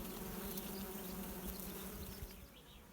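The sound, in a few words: honey bees buzzing around a hive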